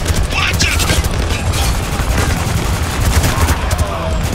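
Dense gunfire from a military shooter video game set in a war zone, a continuous loud fusillade of shots and bursts with shouted voices mixed in.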